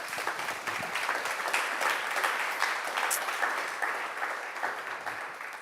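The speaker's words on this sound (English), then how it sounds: "Let's have another really big round of applause for you" A conference audience at the S+T+ARTS Day 2022 event claps steadily, a dense, even wash of hands that holds at a constant level for the whole stretch with no voices on top.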